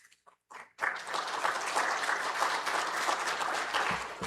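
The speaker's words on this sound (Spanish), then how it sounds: "Palmas, por favor." Audience applause welcoming a speaker at a mining and energy conference: after a brief pause and a few stray sounds, steady clapping from a seated crowd swells in and continues evenly to the end.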